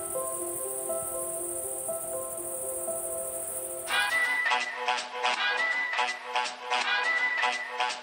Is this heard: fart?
no